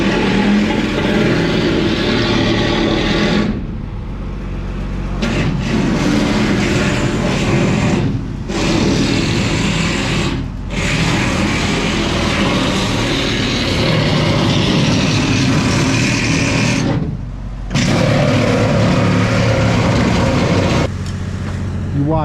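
Heavy machinery pushes out a trailer being scrapped in a yard, giving a loud, continuous rumbling roar that drops out briefly a few times, with no talking.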